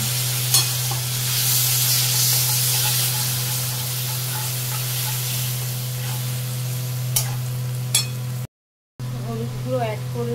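Water hits spices, including cumin and turmeric powder, frying in a pan, producing a steady close sizzle with stirring scrapes and a brief cut-out. A voice is faintly heard near the end.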